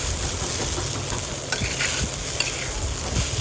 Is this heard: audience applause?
no